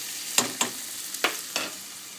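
Penne with pancetta and green asparagus cooking in a pan, giving a soft steady sizzle with about four brief broadband bursts as the food is stirred, close and moderately quiet, no talking.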